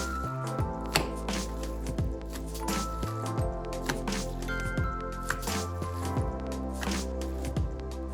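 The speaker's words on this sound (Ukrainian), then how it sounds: "Відбийте фарш, бо він має бути в'язким." Minced meat is beaten by hand in a bowl, giving repeated soft, wet slaps and squishes at an irregular pace over steady background music.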